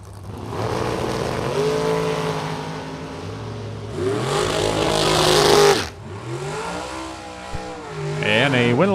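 Drag race cars launching side by side at a Super Pro Box bracket race, engines roaring loud and rising in pitch through the run as a track announcer talks over them.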